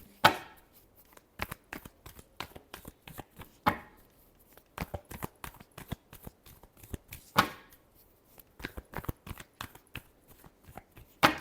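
Tarot cards shuffled by hand close by: a series of crisp riffling bursts and sharp taps, some longer sweeps and many quick flicks, fairly quiet and without talk.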